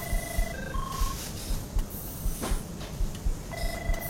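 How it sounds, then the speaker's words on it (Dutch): A telephone rings in an intensive care unit, short repeated electronic tones over a busy, rhythmic clatter of ward machinery. "Ik ga even de telefoon aannemen."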